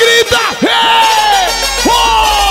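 A concert crowd at a show in Vila dos Cabanos yells and whoops in loud, rising and falling shouts that repeat in quick waves, carried over an amplified sound system.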